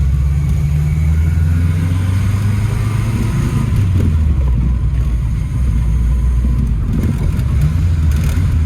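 A Saab 96, unstarted for 36 years, runs steadily with a loud, close mid-pitched engine drone while it is shifted through gears. The transmission goes in without grinding, and the engine note swells slightly at moments.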